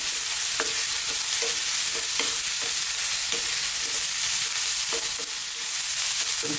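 Mixed vegetables with fresh curry leaves stir-frying in a pan over lively heat, a constant loud sizzle broken by a steady rhythm of scraping stirs, with no voices.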